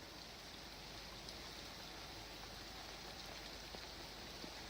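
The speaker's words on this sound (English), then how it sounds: "Remember that rain that we had." Steady, dense rain hisses evenly throughout a film soundtrack, a soft continuous wash with no voices.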